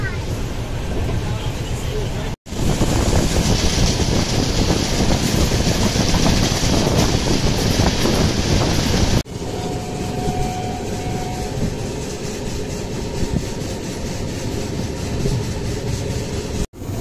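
A passenger train running from Thiruvalla in Kerala toward Delhi gives off a loud, steady rumble and rattle heard from on board, broken by a couple of abrupt cuts.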